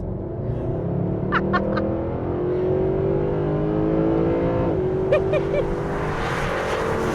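A naturally aspirated V8 engine in a Mercedes SLS revs up in a long rising sweep toward 7,000 rpm, climbing steadily in pitch, then drops briefly and climbs again, loud and close.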